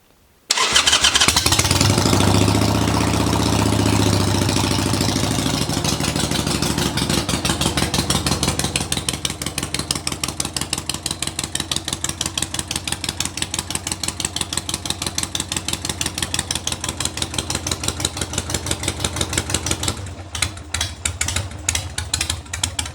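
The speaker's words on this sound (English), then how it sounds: "this bike fires right up. It's running great." A Harley-Davidson motorcycle fitted with an aftermarket Amazon carburetor, run with the choke on after a week unused, fires up loudly and settles into a steady, throbbing idle with a rapid even pulse.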